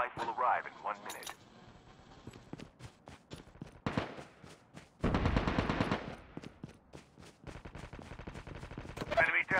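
Bursts of automatic gunfire against zombies in the mobile shooter Call of Duty Mobile, with rapid loud volleys separated by pauses, under game voice callouts and player talk.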